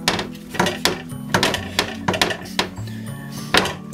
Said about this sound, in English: Rather loud chopping board.